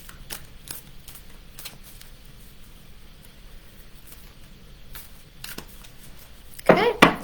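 Tarot cards are shuffled up close with soft, spaced flicks, then a loud, quick riffle near the end.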